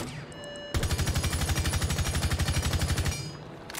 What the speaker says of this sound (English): now we're going to do a full mag dump